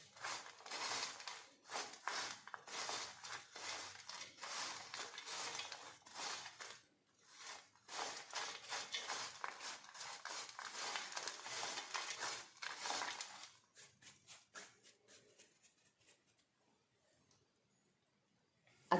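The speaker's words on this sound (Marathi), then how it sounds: "तोपर्यंत आपण हे ड्राय फ्रूट्स आणि हे मिक्स करून घेऊया." Dry fruits stirred in a pan for laddu, making a steady run of scraping and clinking strokes that fade out toward the end, with no talking.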